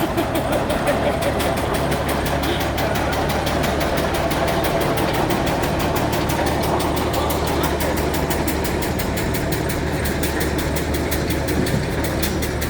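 A 1912 Rumely gas pull tractor engine runs during a parade at an antique show, a steady low chugging with rapid regular firing pulses, loud and continuous throughout.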